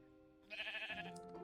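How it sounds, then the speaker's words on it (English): A pink sheep in Minecraft, penned in a horse coop, gives a single drawn-out, wavering bleat. The bleat rises clearly above a steady background hum and fills most of the clip, with no talking. "We have pink sheep in one of the horse coops right now."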